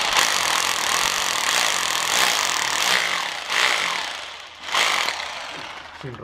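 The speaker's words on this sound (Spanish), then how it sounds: "vamos a hacer una prueba con el taladro, porque este material es duro" An electric drill with a masonry bit bores into hard floor tile and concrete, a loud grinding roar in several bursts with short dips between them.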